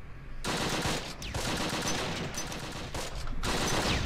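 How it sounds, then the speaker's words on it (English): Grenades and gunfire in the Close Combat war game, dense crackling bursts of battle noise with brief gaps between them, continuous and moderately loud with no talking. "Oh, grenades going off."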